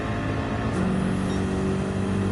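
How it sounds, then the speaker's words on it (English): A car engine revs steadily in the Gran Turismo 7 racing game, a loud sustained drone with a slight rise in pitch, heard alone without talk. "Of course, it should be revving that out to 140"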